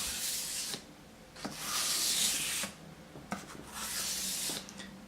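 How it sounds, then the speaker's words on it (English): A knife edge is drawn across wet and dry sandpaper in long, steady hissing strokes, four passes with short pauses between them, close and fairly quiet. "you can get a razor edge just using wet and dry sandpaper"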